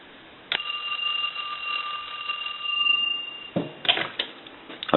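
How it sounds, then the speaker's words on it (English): A pair of Western Electric French style telephones ring in a repair shop, one long sustained electric bell ring cutting off sharply, followed by a brief second burst, close and clear. "we're going to ring them, and then we're going to answer one"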